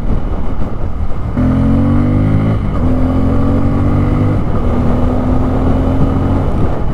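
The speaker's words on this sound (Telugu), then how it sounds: "ఎగ్జాస్ట్ సౌండ్ అయితే చాలా బాగుంది" A 2024 Bajaj Pulsar N250 motorcycle exhaust drones loud and close while riding, the engine note climbing steadily through several gear shifts.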